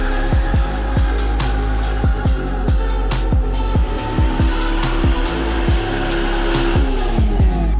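A VAZ 2114 car engine revs repeatedly with sharp rising pitch sweeps, as if pulling away and accelerating hard through gears, loud and close throughout with no talk.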